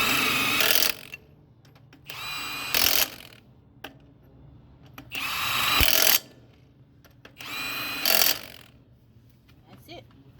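Four loud bursts from a power impact wrench tightening lug nuts on a tire wheel hub, each lasting about a second, separated by gaps with faint background sound.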